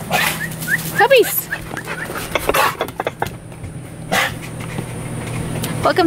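Several puppies whimper and yip in high, thin cries close to the microphone, scattered across the moment, with a person talking over them and a constant low hum.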